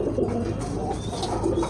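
A pair of White Bombay pigeons coo briefly and softly up close, a low burbling call over a murky, rustling background.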